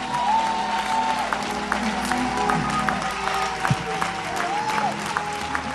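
Applause from a church gathering rolls on steadily with scattered claps and crowd noise, while music and faint voices sit underneath.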